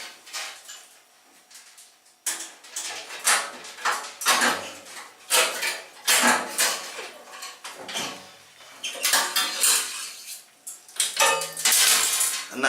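Metal parts of a cooker being handled and unclipped near the thermostat rod, giving a run of close, irregular clinks, rattles and scrapes in bursts with short pauses, no talking.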